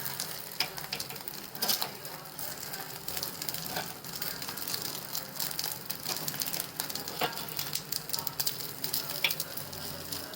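Fasting appe cooking in an appe pan sizzle steadily while being flipped one by one, with scattered clicks and scrapes of a utensil against the metal pan over a continuous frying hiss.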